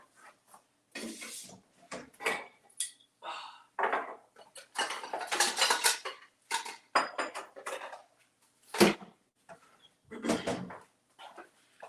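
Dishes and a bowl clatter in a home kitchen, several bursts of clinking, scraping ceramic and metal knocks at irregular intervals, close and fairly loud with short silences between.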